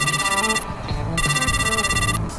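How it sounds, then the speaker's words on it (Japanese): An electronic telephone ringing tone sounds on an outgoing call, two bright repeated ringing bursts separated by a short pause, close and clear. "ちょっと電話してみよう。"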